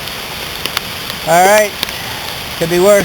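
Steady rain pattering across the water around a kayak on Howell Creek, a constant soft hiss under brief bursts of nearby talking.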